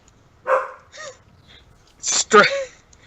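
A pet dog at home gives a couple of short yelps and whining barks nearby, loud and close, alone without talk over them.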